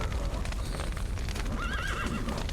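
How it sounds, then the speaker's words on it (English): A horse in The Witcher 3 video game gives a loud, wavering whinny over busy in-game clatter and hoof noise. "Can the horses get out?"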